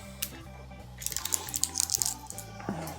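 Chattanooga 1816 Reserve Solera Finish whiskey pours from a bottle into a glass, a bright trickling and dripping splash that rises in the middle and tapers off, heard close over a low steady hum.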